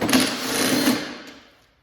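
A socket tool whirs briefly up close while pulling screws and bolts from a Toro CCR 3000 or CCR 2000 snowblower during repair, a short rattling mechanical burst that fades out.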